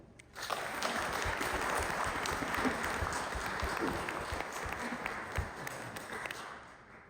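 Audience applause fills a reception hall as Dr. Oak is welcomed to the podium, a steady dense clapping that swells in after a moment and holds loud throughout, easing slightly near the end.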